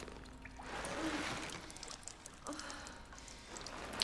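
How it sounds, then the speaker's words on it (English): Water splashes and patters onto a camera lens in the Tomb Raider game for PS3, a soft wet spattering that swells early on and carries on steadily throughout with no voices. "I do like that though, the water landing on the camera."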